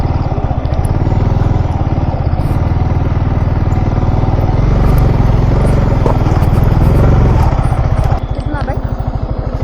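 A Yamaha R15 motorcycle ridden up the road to Bolumalai Fort, its engine pulsing loud and close throughout, with a rhythmic throb that loosens near the end; a rider's voice sounds over it.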